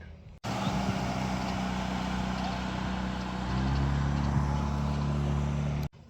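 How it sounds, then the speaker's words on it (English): A motorboat passes on a Louisiana bayou with a steady low motor drone and broadband wash that swells slightly midway through before cutting off, heard from nearby outdoors. "There's a boat coming by right now, I hear it."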